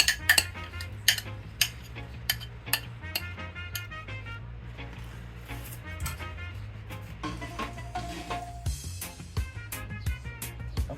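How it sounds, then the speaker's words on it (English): Meatloaf ingredients with eggs and breadcrumbs are mixed in a bowl, with quiet repeated clicks and scrapes of a utensil against the bowl and a low steady hum behind. "I'm gonna start mixing everything together, combine everything together"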